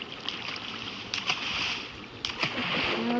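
Steady rushing water from water blocks in a survival video game runs throughout, with a few brief splashy bursts breaking through the continuous flow.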